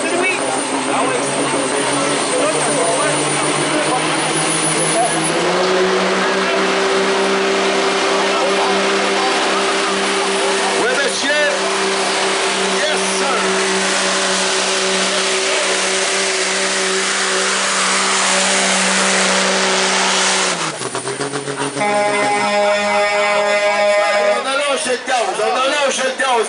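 A 4x4 truck engine roars loud and sustained at a truck pull festival in Saint-Jean-de-Dieu, holding a steady revving drone for about twenty seconds before the throttle drops and shifts, with crowd voices faintly mixed in.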